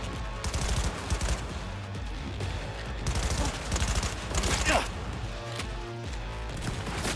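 Gunfire in the video game Cyberpunk 2077 Phantom Liberty, dense bursts of automatic shots and impacts over a busy game soundtrack, loud and close, with a player talking briefly underneath.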